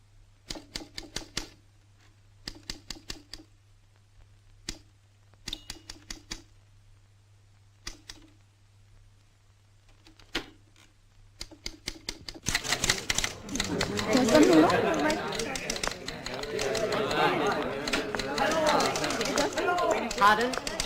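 Typewriters clatter in short bursts of rapid keystrokes separated by quiet gaps, then keep typing beneath a loud burst of crowded chatter and voices in an office.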